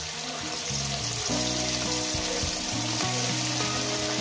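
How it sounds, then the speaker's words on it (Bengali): Bata fish slipped into hot oil give a steady, loud, dense sizzle that carries on without a break, with no voices over it. "বাটা মাছগুলো এইভাবে ছেড়ে দিই"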